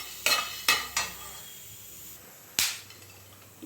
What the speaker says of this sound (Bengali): প্যানে আমি আগে দেখো গোলমরিচটা আগে আমি একটু ভেজে নিচ্ছি